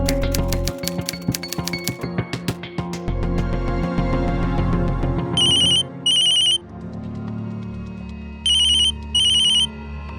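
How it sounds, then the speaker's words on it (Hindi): A mobile phone ringtone plays at an indoor scene in a crime drama episode, first as a plinking melodic tune and then as repeated bright electronic ring bursts in pairs, close and clear with no talking. "दीदी आपका फोन।"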